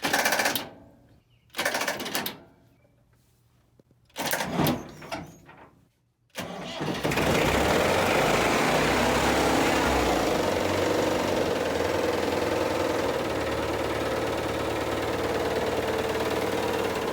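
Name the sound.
60-year-old diesel tractor engine starting and idling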